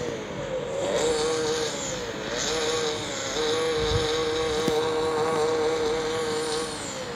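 BMW car engine in a car parking game running and revving, a steady droning engine tone with rising and falling pitch as the throttle changes, continuous and fairly loud with no talk.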